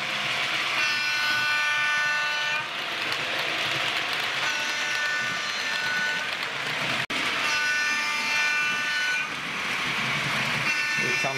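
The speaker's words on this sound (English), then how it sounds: "And here's the express train thundering through." A Bachmann Class 55 Deltic model express train rumbles steadily along its track with a high metallic whine and whistle-like tones, continuous and close, with a brief break near the end.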